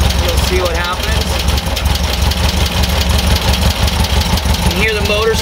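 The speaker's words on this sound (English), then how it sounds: "You hear the motor starting to run a little faster." A Volkswagen air-cooled engine with dual carburetors idles loud and close with a steady, uneven thrum, its revs lifting slightly toward the end as it starts to run faster.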